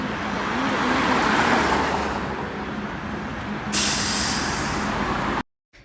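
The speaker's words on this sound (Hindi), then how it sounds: "देखो गाड़ियों की इतनी लाइन लगी हुई है" A long queue of vehicles sits in a traffic jam on the road to the Kumbh Mela in Prayagraj, filling the air with a steady, dense roar of idling engines and road noise, and a sharp air-brake hiss breaking in near the end.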